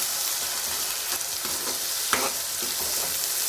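Mint leaves fry in hot oil for a chicken gravy curry, giving a steady close crackling sizzle with a few soft stirring scrapes and one sharper knock, and no voices.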